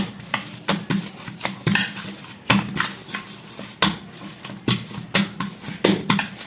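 Punugulu batter being mixed with a splash of water in a steel bowl, a spoon or hand knocking and scraping against the sides in a steady rhythm of close clinks and slaps, with no talking.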